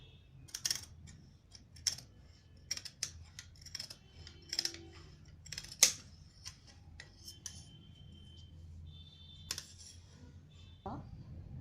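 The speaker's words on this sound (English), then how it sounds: "After tracing the inner line, we cut this outline." Scissors snip through fabric along a traced skirt outline for a plain straight skirt, giving scattered, crisp clicks and snips at close range over a faint room hum; no one talks.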